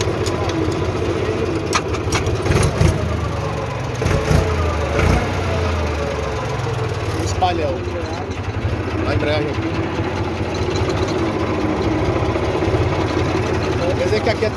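A Valtra Valmet tractor's diesel engine running steadily throughout, a continuous low rumble with a few louder knocks and rattles, under someone talking on and off.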